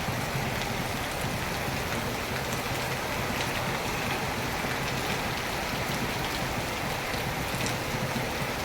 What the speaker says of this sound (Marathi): मग बघा किती छान पाऊस पडतो.